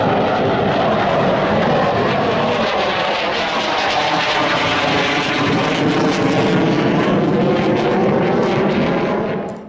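Indonesian Air Force fighter jets circle overhead during a combat training exercise, a loud, continuous roaring engine wash that holds steady for nearly ten seconds with a slowly shifting whine.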